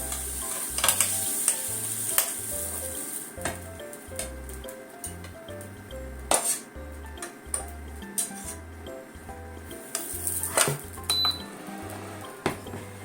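A green onion pancake (negiyaki) sizzles softly in a pan while a spatula scrapes and taps against the surface in repeated short strokes, under a steady low background hum.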